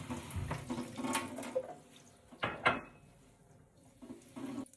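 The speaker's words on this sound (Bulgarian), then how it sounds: "Наливам отпадна, наливам и хубава вода." Water pours from a Kangen water machine into a vessel with a running, splashing trickle. There are a few louder gushes and clinks along the way, heard close up in a quiet indoor room.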